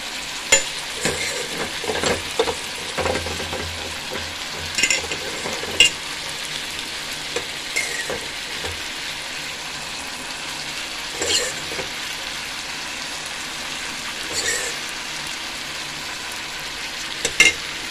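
Cooked rice for lemon rice is stirred and fried in a pan with lemon juice, giving a steady soft sizzle broken by irregular scraping and clinking spatula strokes, close and fairly quiet, with no talking.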